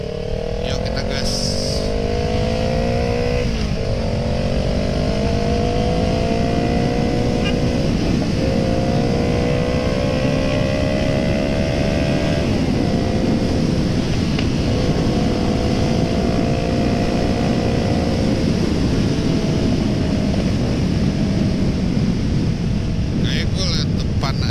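Kawasaki ER6N motorcycle engine while riding, a loud, continuous droning parallel-twin hum with rising and falling revs through gear changes, steady wind rush throughout and someone talking over it.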